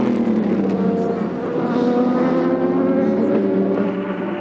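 American Le Mans Series race car heard from on board, a loud sustained engine drone with shifting pitch as it closes on an Aston Martin, steady and close, with no talking.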